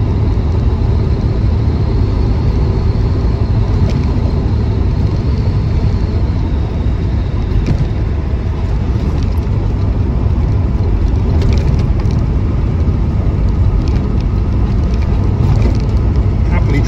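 A 1974 MG B GT V8 trundles uphill in top gear, giving a continuous low engine rumble with road noise heard from inside the car, loud and unbroken.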